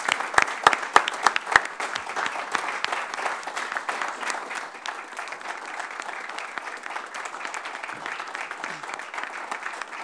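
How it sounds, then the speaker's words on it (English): Audience applause at a county board meeting: a few sharp, close claps at first, then sustained, even clapping from the room that continues steadily throughout. "You're generous in your applause and your approbation."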